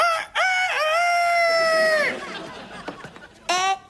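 In a French TV comedy scene, a person imitates a rooster crowing with a long, loud, drawn-out call, followed by a pause and a shorter second crow.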